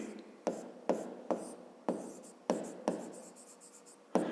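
Pen writing on paper during a fifth-grade math lesson, close and quiet scratchy strokes that start sharply in repeated bursts about every half second and fade between them, with no talk.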